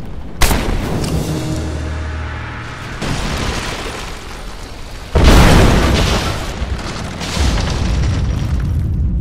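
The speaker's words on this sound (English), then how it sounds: "Looks like I'll have to use Greek fire." A Greek fire blast in Rise of the Tomb Raider goes off as a loud booming explosion, followed by a second heavy burst and a long rumbling roar of fire and debris.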